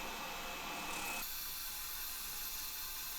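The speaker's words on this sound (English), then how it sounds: "Orbital sander." Orbital sander working guitar wood, a steady broadband whirring hiss that holds loud for a moment and then drops to a quieter, thinner whine as the load changes, with no talk.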